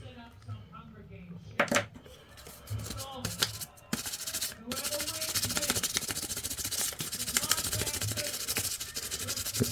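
Sanding armour fingertips on a costume glove, a continuous close scratchy rubbing texture that builds after a few seconds, with someone talking over the work.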